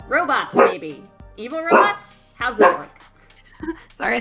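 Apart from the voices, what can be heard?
dog barking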